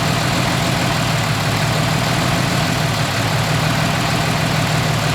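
A 1969 Mercedes car engine, warmed up near operating temperature, idling steadily with a continuous loud, close mechanical drone and slight irregular pulsing, heard alone without talking.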